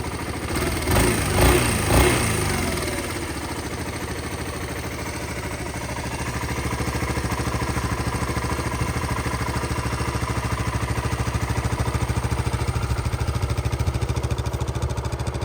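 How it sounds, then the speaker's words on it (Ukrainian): A Suzuki Van Van 200 motorcycle with about 31,000 km on it idles evenly and fairly quietly after a few louder knocks at the start, keeping a soft steady putter close by. "Дуже кльово ці двигуни працюють у них."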